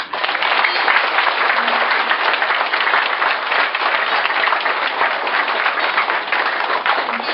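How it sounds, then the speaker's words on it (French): Sustained congregation applause at a church installation ceremony for a new parish priest in Gressier, dense and continuous for over seven seconds at a fairly loud, even level. "encore applaudis-les"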